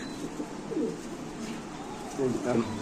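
Pigeons coo in soft, throaty bursts nearby, a couple of low rolling calls heard over a quiet background hum.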